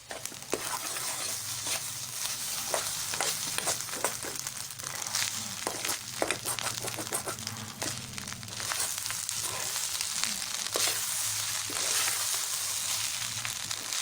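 Egg fried rice seasoned with salt and black pepper sizzles steadily in a hot pan, with repeated scraping and stirring strokes up close and a low hum underneath, no talking.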